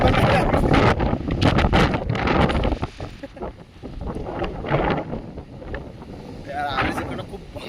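Strong wind rushes across the Gaganbavda ghat road, a loud broadband roar buffeting the microphone and easing briefly midway, with muffled voices under it.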